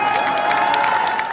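Crowd cheering and clapping at an election count centre as a winning candidate arrives, a dense, steady roar of voices and applause with a constant tone running underneath.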